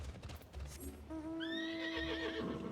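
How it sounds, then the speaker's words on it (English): A thunder horse mount in Final Fantasy XIV gives a loud, clear whinny that rises and trails off, preceded by a few hoof clops and a brief game sound. "Like some kind of weird thunder horse."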